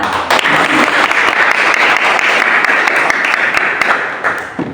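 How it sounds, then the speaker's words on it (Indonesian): A classroom of students applauds a classmate, loud close continuous clapping from many hands filling the whole stretch without a break. "kita beri tepuk tangan kepada teman kita"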